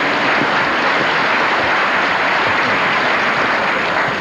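Steady, dense applause from a crowd, continuous and fairly loud throughout with no talking.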